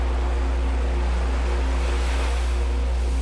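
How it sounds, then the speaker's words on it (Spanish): Sea waves wash onto a shore in a steady, loud, continuous roar of surf with no voices, a constant broadband rush with a low hum beneath. "Oímos el sonido del mar"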